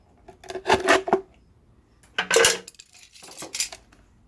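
Plastic PET bottle being pierced through the middle with a tool for a lettuce planter, giving a few short scraping, clattering bursts in two or three clusters, close and moderately loud with no talking.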